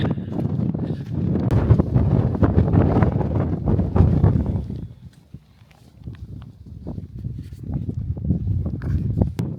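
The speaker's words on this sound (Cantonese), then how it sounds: "哇！ 好大風啊！" Strong wind blows across the microphone on a Mount Fuji climb. It makes a loud, continuous roar that dips briefly midway, then returns in gusts.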